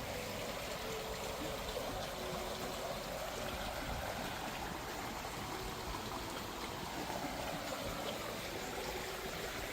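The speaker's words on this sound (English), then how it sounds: "the water seemed to be running off some rocks" River water runs over rocks in a steady, faint, broadband rush and trickle, continuous and unbroken throughout, with no voices.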